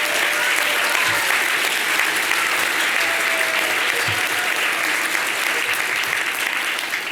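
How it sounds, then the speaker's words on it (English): A large audience at a children's inauguration ceremony claps loudly and continuously for the teachers, a thick, even wash of applause with faint voices mixed in. "why don't we also give a big round of applause to all the teachers who are here with us today"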